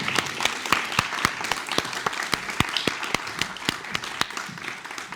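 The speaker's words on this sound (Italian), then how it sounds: "a cui farei nuovamente un applauso." Audience applause for guests at a film screening debate, a steady wash of many hands clapping with sharp individual claps standing out, fairly close, no talk over it.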